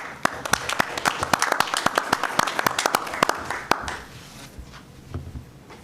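Applause at a high school board of education meeting, a roomful of hands clapping in a dense, steady patter that fades out after about four seconds, leaving quiet room murmur.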